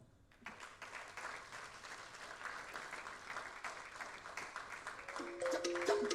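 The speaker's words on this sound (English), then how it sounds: "Hayo ni makofi ya kichoyo" Steady applause from an audience at a Tanzanian innovation week event, moderately distant and sustained, growing slightly louder toward the end, with a brief tonal sound near the close.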